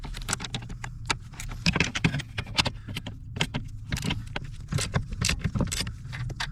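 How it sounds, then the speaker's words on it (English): A 9/16 wrench loosening the four nuts holding the brake booster to the firewall of an OBS Ford F-150, giving a dense run of close, rapid metallic ratcheting clicks and clinks, with no talking. "we can start loosening these 4 nuts off of the studs holding the brake booster to the firewall"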